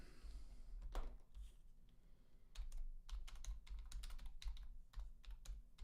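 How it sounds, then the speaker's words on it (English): Typing on a computer keyboard, quiet clusters of sharp key clicks arriving in irregular bursts with short pauses between them, close and faint, with no talking. "I suck at typing, by the way,"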